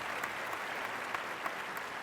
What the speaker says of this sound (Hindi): एक बार जोरदार तालियां अनिल कपूर सर के लिए